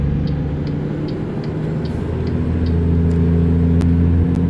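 A truck engine in American Truck Simulator labors as it accelerates out of an intersection, a continuous low droning rumble with steady pitch and a slight shift near the end.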